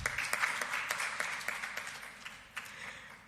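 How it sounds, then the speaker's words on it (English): Applause from the audience at a quarterly education oversight press conference, a brief, fairly faint patter of clapping in a room with no talking. "And for that, we can give a round of applause."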